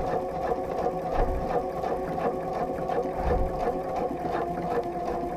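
A sewing machine stitches steadily for free motion ruler quilting, giving a continuous, even mechanical hum with a fine rapid needle rhythm and slight surges in pace, close and alone.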